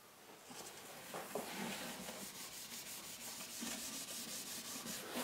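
Osmo Poly-X finish being wiped onto oak in a workshop, heard as faint, continuous rubbing and soft scuffing strokes close by.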